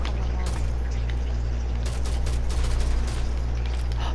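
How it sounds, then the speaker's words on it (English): Distant, scattered gunfire in a Rainbow Six Siege match, sporadic shots and short bursts heard faintly over a steady low background hum, with no voice speaking. "so much shooting going around right now"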